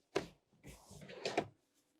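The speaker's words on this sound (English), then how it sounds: "Underneath the seats are two drawers on both sides that you can" A storage drawer under a seat in a 2026 Newmar Summit Aire RV sliding out: a soft thump, then a rolling slide ending in a couple of light clacks, quiet and close.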